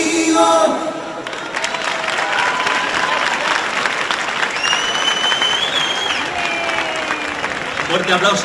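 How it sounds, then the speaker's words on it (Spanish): An audience applauds after a bachata dance performance at a wedding showcase event. Full, sustained clapping and cheering builds across the stretch, with voices and a few whistles mixed into the crowd noise. "fuerte aplauso para Miriam y Dariel, baile de bachata"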